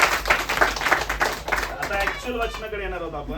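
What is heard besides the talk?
congregation clapping loudly in church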